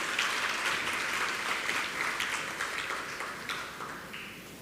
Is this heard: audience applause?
yes